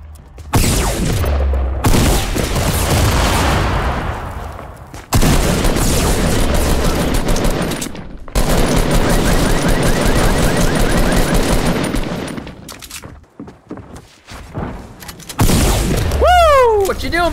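Rapid machine gun bursts in Fortnite Battle Royale, loud close-range fusillades in long sustained runs broken by short pauses, with game effects and a person talking over parts of the firing.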